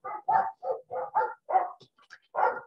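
A dog gives a quick run of about eight sharp barks at a moderate distance in an even rhythm, with a short gap near the end and no talking over it.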